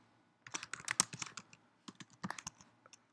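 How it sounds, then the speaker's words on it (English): Typing an address on a computer keyboard, quick close clicks of keystrokes in two short irregular bursts separated by a brief pause, quiet and alone. "We're going to type in our address."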